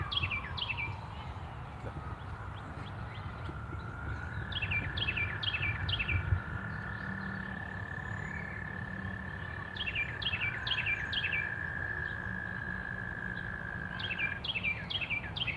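Frogs and a bird calling outdoors, repeated rapid chirping bursts in clusters with a sustained whistling tone over a steady low background hum, faint and distant, no talking.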